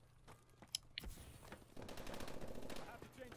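Rapid automatic gunfire and shots in the video game Call of Duty: Advanced Warfare, scattered bursts early then a sustained stuttering volley, with a player's voice faintly present.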